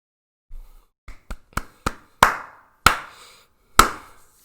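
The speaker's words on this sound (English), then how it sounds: "Final claps." Seven separate hand claps, sharp and close, spaced irregularly and slowing toward the end, each with a short room ring and no talking.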